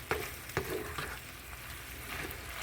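Ground meat for Korean sloppy joes sizzles in a pan with a soft, steady frying hiss, broken by a few sharp scrapes and knocks as it is stirred around; quiet and close.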